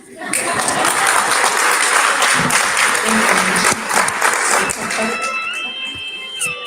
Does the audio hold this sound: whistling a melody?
no